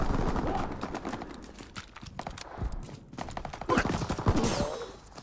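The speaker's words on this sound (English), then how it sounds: "Enemy strafing run inbound." Enemy strafing run in Call of Duty WW2, with dense bursts of gunfire and impacts rattling through a busy, loud battle mix, rising again near the end.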